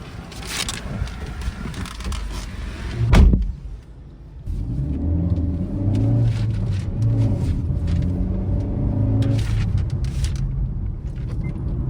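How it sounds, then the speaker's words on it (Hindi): A Honda City car on a test drive after delivery, with steady engine rumble and road noise from inside the cabin, a brief louder thump near the start, then a continuous low drone with a faint tonal whine. "तो अब गाड़ी मैं टेस्ट करने वाला हूँ।"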